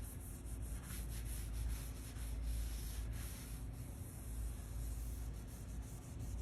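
Natural hard wax oil finish being rubbed by hand onto a wooden surface, a continuous close scratchy rubbing in quick back-and-forth strokes, soft but steady, with no speech.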